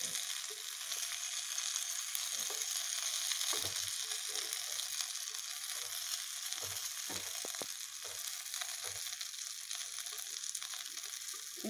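Brinjal frying in a pan for Telugu-style podi vankaya, a steady soft sizzle and crackle of oil running throughout with faint clinks of stirring, close by and without talk.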